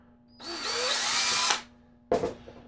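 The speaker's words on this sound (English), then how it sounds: "I'm going to drill this one hole a little bit bigger." A power drill enlarging an existing hole whirs steadily for about a second, winds down, then gives a second short burst.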